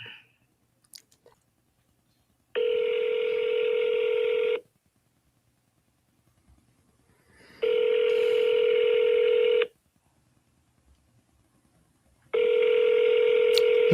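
Telephone call to a federal government office ringing out: three long, steady electronic ring tones separated by silent gaps of a few seconds, clear and close.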